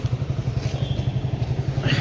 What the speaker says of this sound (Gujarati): ચલો બાઈક આવી ગયું,